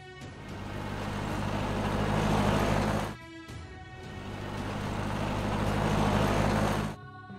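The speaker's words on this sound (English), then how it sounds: "car." A car engine swells steadily to a loud roar, cuts off abruptly, then builds and stops again, giving two close revving surges.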